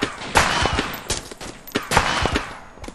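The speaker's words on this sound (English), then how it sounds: "We're taking heavy fire." Heavy gunfire in ARMA 2, a string of close, sharp rifle cracks at irregular intervals, several shots in quick succession with loud echoing tails.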